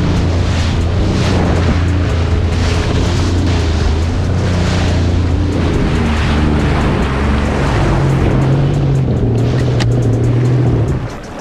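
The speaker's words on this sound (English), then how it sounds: "that's why I keep the engine started" A jet ski engine runs continuously in fog out on open water, a loud, close, throbbing motor drone whose pitch shifts slightly as it revs, mixed with water slapping against the hull and no talking.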